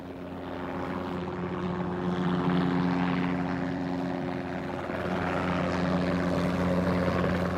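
A privately owned helicopter flies overhead in Burkina Faso, a steady droning engine and rotor hum that holds at a constant loud level without any talk.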